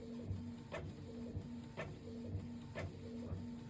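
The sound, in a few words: printer printing a photocopied collage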